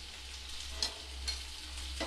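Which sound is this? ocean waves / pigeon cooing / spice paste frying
spice paste frying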